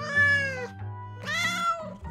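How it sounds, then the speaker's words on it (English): Two cats, one an orange tabby, trade meows back and forth: one longer harmonic meow, a short pause, then a second rising meow, all close and clear with no other sound. "The two of them meowed back and forth"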